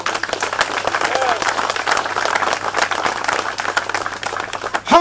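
Crowd applause and hand clapping at an outdoor street dedication ceremony honoring a community leader, a steady moderate clatter of many hands running throughout with voices mixed in and a brief whoop near the end.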